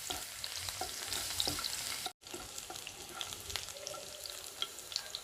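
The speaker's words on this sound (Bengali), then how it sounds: "একটু গরম হলে দিয়ে দেব রসুন কিউবস 1 টেবিল চামচ। দুই এক মিনিট ভেজে নেব।" Garlic cubes frying in hot oil, a dense continuous crackling sizzle heard close up with a few spoon scrapes, cut by a brief moment of silence midway, no talk.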